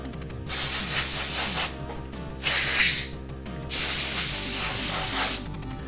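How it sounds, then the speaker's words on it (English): A can of compressed air blasts hissing bursts to clean NES console hardware, three long loud sprays separated by brief pauses over a low steady hum, no speech. "I'm just going to use this compressed air"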